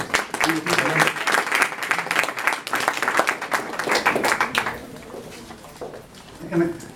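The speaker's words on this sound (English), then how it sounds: "Round of applause for Sister Carmelita." Enthusiastic applause from a congregation at a religious gathering, a loud dense burst of clapping with cheering voices that carries on for several seconds before dropping away, a brief spoken voice at the end.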